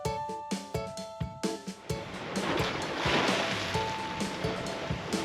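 Storm-driven waves slosh and break against the shore of a harbor near Boston, a continuous rushing wash swelling in the middle, with some knocking and tapping sounds early on.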